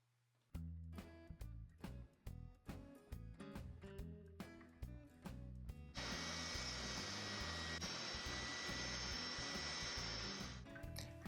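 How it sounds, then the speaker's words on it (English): Woodworking on a wooden toy seat: close, rhythmic rasping strokes of a coping saw cutting the wood, then a steady loud whir as a bobbin sander runs continuously to finish the edge, with no talk. "I'm cutting that with a coping saw first, and I will be finishing off on the bobbin sander."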